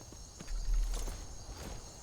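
Horse hooves clip-clop at a walking pace in Skyrim, a series of soft, evenly spaced hoofbeats that swell briefly in the middle and then settle back into a steady rhythm.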